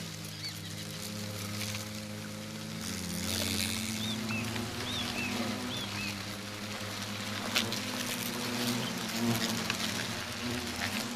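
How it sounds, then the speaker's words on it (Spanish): Dense, continuous droning buzz of a hornet swarm at its nest in a forest, many wings humming together at close range, with faint bird chirps in the background. "se ha establecido un espléndido enjambre de avispones"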